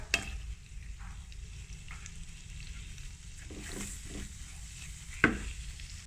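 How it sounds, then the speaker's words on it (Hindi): Flour roasts in melted butter over low heat, making a low steady sizzle as a spoon stirs through it, with a few soft scrapes and one sharp clink near the end. "सिर्फ एक से दो मिनट हल्की आंच पर इसको भुनना है"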